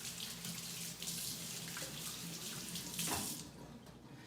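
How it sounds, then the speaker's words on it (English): Water runs steadily from a kitchen tap into a sink while hands are washed, a continuous close splashing hiss with a brief louder surge near the end as the hands move under the stream. "I'm gonna wash my hands."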